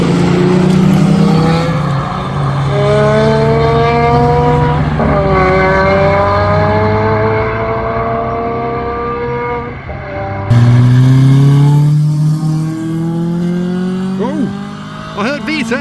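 A JDM race car with a Honda VTEC engine revs hard and passes close, its engine note climbing through several gear changes and bursts of acceleration, with crowd chatter around it at a car meet.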